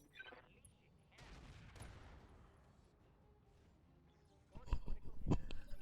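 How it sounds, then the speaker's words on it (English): Artillery and weapons fire in the Battletech RogueTech game: a faint dull boom and rumble early, then a burst of sharp, loud impacts and cracks near the end. "They keep lobbing artillery at it."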